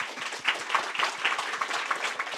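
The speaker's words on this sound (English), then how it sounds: "let's give a big round of applause for Sunny's excellent presentation" Brief applause from a small audience after a talk on Java performance tuning, with individual claps distinct in a quick, uneven patter lasting a couple of seconds.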